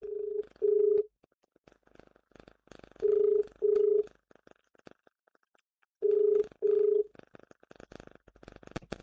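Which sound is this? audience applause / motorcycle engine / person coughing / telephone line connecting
telephone line connecting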